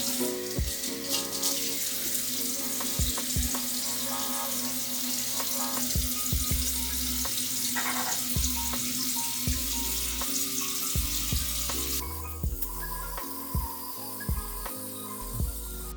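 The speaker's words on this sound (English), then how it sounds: "first thing I wanna do is I wanna wet my hair, as always." Tap water running steadily into a sink while hair is wetted, a loud continuous splashing stream with occasional thumps and shifts as the flow is disturbed.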